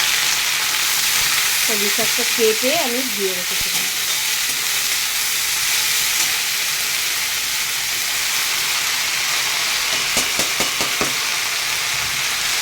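Water spinach sizzles and fries in hot oil with fried onions in a pan, a continuous loud hiss throughout, while someone talks briefly over it.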